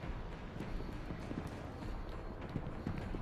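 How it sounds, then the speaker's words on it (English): Running footsteps in the video game Firewall Ultra: a quick, muffled run of thudding steps that keeps going steadily through the whole stretch, heard alone without talk. "I hear footsteps like a motherfucker."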